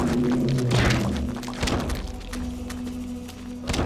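Enemies in the video game Eternal Darkness strike each other, producing several dull thuds and thunks under steady game ambience with a sustained tone, the hits irregular and moderately loud.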